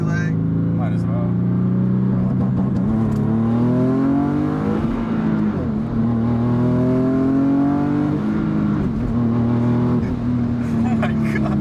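Big-turbo Infiniti G37 coupe accelerating hard in second gear, a loud engine note climbing in pitch through repeated sweeps with a shift-like dip midway, heard from inside the car while people talk over it.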